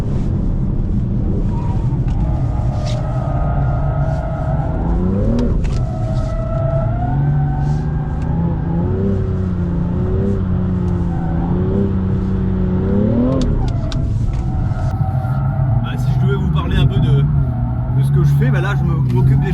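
BMW M2 engine revving hard through third gear on a circuit at the Driving Center du Castellet, a loud rising and falling in-car engine note with gear-linked pitch sweeps, while someone talks over it continuously.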